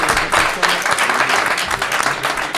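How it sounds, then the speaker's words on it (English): Audience applause fills a boxing post-fight press conference, a steady dense wash of clapping held at even loudness for its whole length with no talk over it. "let's have a round of applause for Maricela Cornejo"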